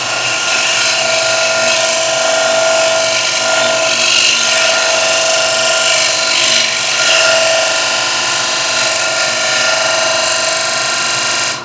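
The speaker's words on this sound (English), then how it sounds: "So I can come in here and cut a bead right here" A turning tool cuts a bead into a wooden platter spinning on a lathe, producing a loud, continuous high whine and scraping hiss that holds steady throughout.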